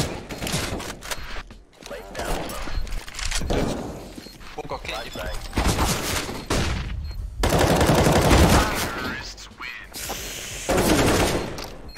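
Shotgun fire and other gunshots from the video game CSGO come in loud, dense bursts with mechanical clatter, layered over fast talk.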